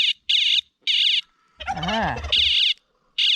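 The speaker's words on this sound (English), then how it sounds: "The alarm does indeed work." A predator trip line alarm on a quail tractor sounds in loud, shrill electronic bursts that repeat in an on-off rhythm, broken by a short exclaimed voice partway through.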